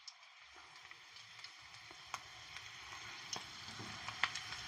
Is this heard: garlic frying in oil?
yes